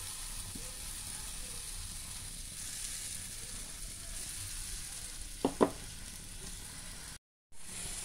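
A soaked dhokar (lentil) paste is frying in a little oil in a pan, giving a steady soft sizzle throughout with a couple of brief clatters near the end of stirring, and no talk.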